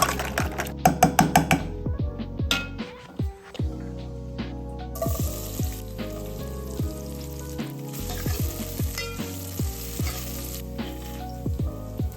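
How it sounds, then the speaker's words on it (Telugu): Spices for tomato rasam sizzle and crackle in hot oil, sharp pops and spits bursting in clusters over a steady frying hiss, close up and loud with no talking. "ఇక్కడ టమాటో రసం కోసం పోపు అయితే పెట్టేశాను."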